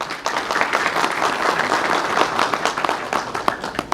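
An audience applauds at a taxi drivers' year-end awards event, with dense, steady clapping from a sizeable crowd lasting throughout and a few sharper claps standing out near the end.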